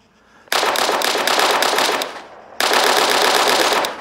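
An AK-74 rifle in Arma 3 fires two long bursts of rapid automatic gunfire, loud and close, separated by a brief pause with the echo tailing off.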